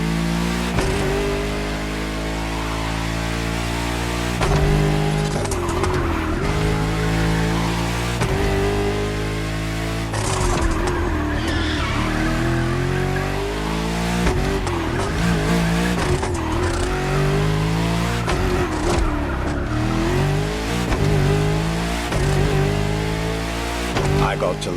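An Accolone luxury hypercar from a French maker in The Crew Motorfest revs and shifts through rising and falling engine notes, with tire squeals over a loud, continuous drive.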